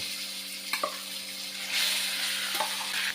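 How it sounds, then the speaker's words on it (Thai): Minced pork sizzles steadily in a hot wok as it is stir-fried for Thai khua kling with southern curry paste, with a few soft scrapes and clanks of stirring. "ผมนำเนื้อหมูนะครับ ลงไปผัดในกระทะเลย"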